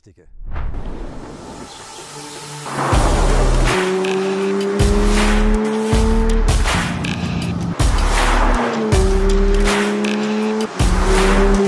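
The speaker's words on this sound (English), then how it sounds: "And here the new 911 GT3 with Touring Package, the athlete in pinstripes, so to speak" Porsche 911 GT3 with Touring Package on country roads: a loud engine note climbs through repeated gear changes, each rise in pitch cut by a brief shift gap, heard close and strong.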